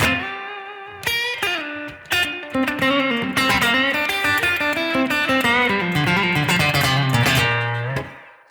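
A fast blues lick on distorted electric guitar: quick runs of bent and picked notes over about eight seconds, played alone and fairly close.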